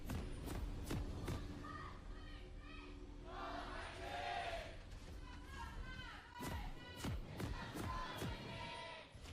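A large arena crowd at a League of Legends Champions Korea esports match between Sandbox and SKT, producing murmuring and swelling cheers with scattered thumps, while a commentator talks over it.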